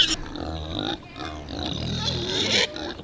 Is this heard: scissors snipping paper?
no